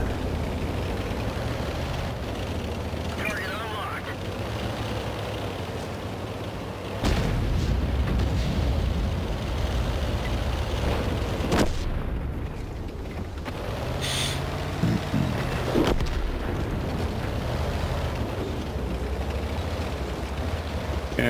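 Artillery firing in a video game, deep booms and rumbling blasts at intervals over a continuous low battlefield drone, fairly distant and moderately loud, with no talk.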